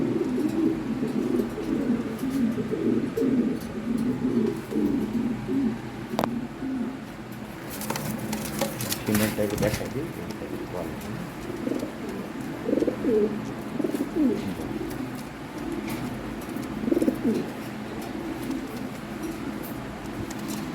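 Lahore Siraji pigeons coo in a steady, layered chorus, low throaty calls overlapping throughout, with a brief burst of wing flaps or rustling partway in and no voices.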